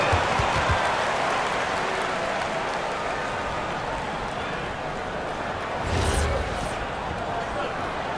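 A large crowd at a WNBA basketball game claps and cheers for the dance team in a steady wash of noise that swells briefly near the end, with loud echoing arena ambience throughout.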